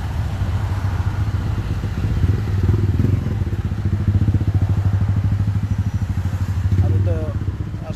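A bus engine runs close by on a street, a low rumbling idle with rhythmic throbbing and some rattling clatter, heard under someone talking nearby.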